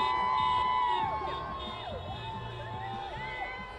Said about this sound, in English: you can feel the energy, you can hear the crowds